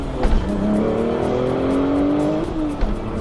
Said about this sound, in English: It's a 997 911 Turbo. So it's a flat six twin turbo, all-wheel drive, 6-speed manual.